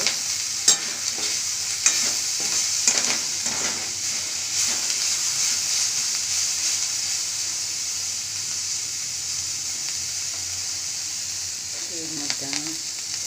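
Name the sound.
stir-frying onion and cabbage for chowmein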